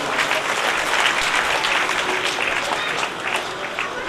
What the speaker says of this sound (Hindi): जोरदार तालियां भैया।